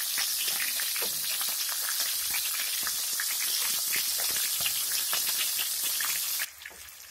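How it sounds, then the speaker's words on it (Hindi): Stuffed tomatoes fry in a pan with a steady, soft hissing sizzle and scattered small crackles, which drops away abruptly near the end; no voices. "अब इनको एक एक करके पलटेंगे, दूसरी साइड से भी पकाएंगे।"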